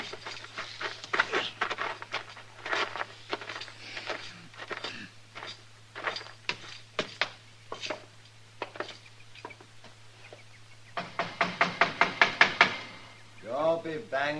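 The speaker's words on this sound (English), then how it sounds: "Don't be banging on the door." Hard, repeated knocking on a door in a Western radio drama: spaced raps at first, then a rapid loud burst of banging, with a voice briefly heard near the end.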